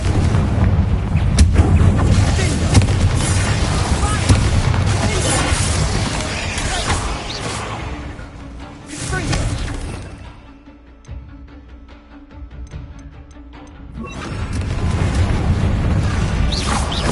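The Confringo spell exploding in Hogwarts Legacy, a loud booming blast and rumble in the game's combat, with talk and battle noise before and after.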